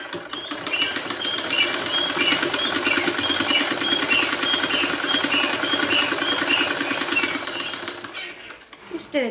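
A sewing machine winds thread onto its bobbin with a fast, steady mechanical whirring and rattle, close and continuous for several seconds before stopping abruptly; a person speaks over it.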